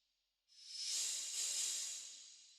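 A single airy open hi-hat sample swells up and hisses for about two seconds, bright and sustained, alone and fairly quiet.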